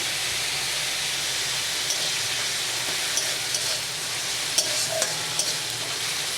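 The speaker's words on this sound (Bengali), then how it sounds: "আবারও ভালোভাবে ভেজে নেব ওর মধ্যে দিয়ে দেবো আদা কুচি" Chopped ginger fries in hot oil in a pan for a pointed gourd, fish and potato dish, producing a loud continuous sizzle and hiss with scattered light stirring clicks.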